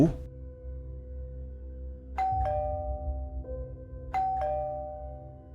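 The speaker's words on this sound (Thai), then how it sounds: "ผมก็เลยตัดสินใจครับ ก่อนจะหิ้วขนมไปถุงหนึ่ง เพื่อเดินไปกดออด อยู่ที่หน้าบ้านของเขา" A house doorbell at a neighbour's front door rings twice, each a clear two-tone chime that rings on over a low steady background hum.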